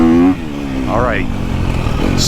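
A 2023 KTM 250 SXF dirt bike engine revs while riding, its motor droning steadily with a rising and falling pitch after a brief burst of speech, fairly close and loud.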